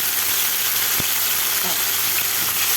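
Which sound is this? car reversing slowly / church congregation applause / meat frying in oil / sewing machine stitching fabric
meat frying in oil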